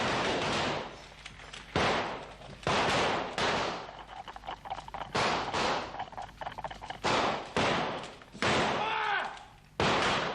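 Loud rifle gunfire from an Easter Rising drama, a rapid series of sharp cracks and booms with echoing tails, under tense shouted talk.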